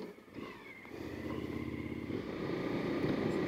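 A motorcycle cruising steadily at around 30 mph, its engine a continuous low drone that slowly grows a bit louder, with wind rush over the top and no talking.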